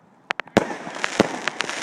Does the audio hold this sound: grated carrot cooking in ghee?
no